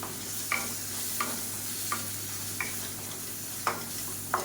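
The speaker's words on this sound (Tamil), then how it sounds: "இப்போ இதில் ஒரு டீஸ்பூன் போல் கறி மசாலா தூள் கொஞ்சமாக மஞ்சத்தூள் சேர்த்து வதக்கி விட்டுக்கலாம்" Tomato, ginger garlic paste, curry masala powder and turmeric sizzle in hot oil while a spoon stirs and scrapes the pan every second or so, a close, steady frying hiss.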